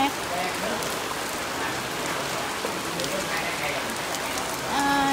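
A heavy downpour in a Vietnamese countryside village hisses steadily on surfaces, loud and unbroken, with a voice briefly rising over the rain near the end.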